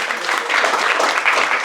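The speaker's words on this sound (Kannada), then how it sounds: "ಒಂದ್ಸರಿ ಚಪ್ಪಾಳೆ ಹೊಡ್ಕೊಂಡ್ಬಿಡೋಣ" A room of people applauds a state-ranking student, a brief dense wash of clapping heard close and fairly loud, with no distinct voices.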